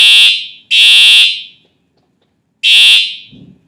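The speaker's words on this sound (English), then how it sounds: "They might be resetting the fire alarm, so if the fire alarm goes off, I'll just pause for a minute." A loud building fire alarm blares in three piercing electronic beeps, two close together then one after a pause, with near silence between them.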